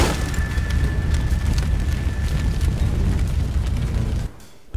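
A loud, sustained booming roar of an explosion in The Godfather II video game, rumbling heavily before cutting off abruptly near the end, followed by a brief quiet pop.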